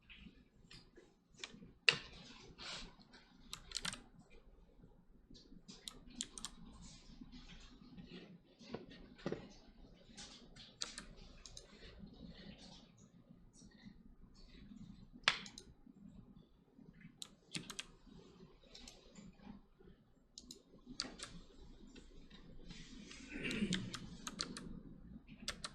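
Steady typing on a computer keyboard during a coding session, with irregular clicky keystrokes and occasional louder taps over soft background hum, no voice.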